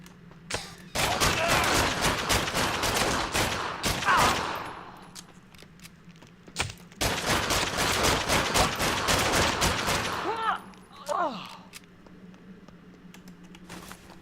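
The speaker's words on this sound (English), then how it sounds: "the sounds are pretty decent too, like the gunshots" Rapid bursts of automatic gunfire in the video game Fallen Earth, two long volleys separated by a short pause, over a steady low hum.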